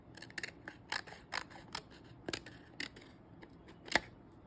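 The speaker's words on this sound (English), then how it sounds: "And then I'm going to cut a little off the bottom here." Scissors snip a little off the bottom of a Retro TV Tim Holtz-style custom ornament, a series of quiet, close crisp cuts in an irregular rhythm with one sharper snip near the end.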